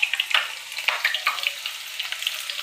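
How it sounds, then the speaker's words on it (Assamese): Sliced onions sizzle and spit in hot mustard oil, with a steady crackling fry and small sharp pops while they are stirred, close up and with no voices. "এয়া পিঁয়াজ, গৰম তেলত পিঁয়াজ পেলাই দিলোঁ"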